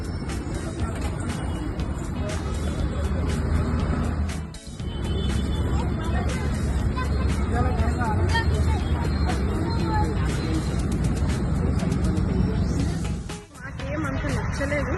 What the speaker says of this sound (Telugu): చాలా ట్రాఫిక్గా ఉంది.